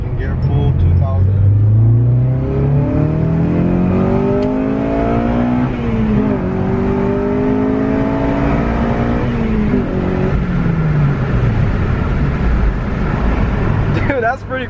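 A Honda Civic Si accelerates hard in second gear on a test drive, the engine note sweeping up through the revs, easing, then climbing again, heard loud from inside the car as people talk.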